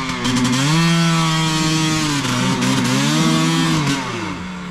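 An enduro dirt bike revving hard in mud: a loud, close, buzzing two-stroke-style engine wail that rises and dips in pitch as the throttle is worked, continuous throughout with no talk.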